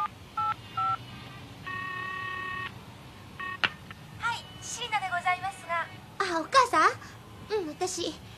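Push-button telephone tones sound as a number is dialed on a phone at night, a run of short beeps in uneven groups, followed by someone talking in Japanese over faint background noise.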